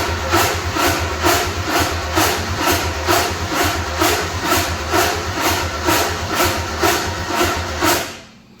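A 1955 Ford engine cranks with the ignition on, a loud, steady, rhythmic chugging of the starter and engine turning over for about eight seconds without catching, then stopping abruptly.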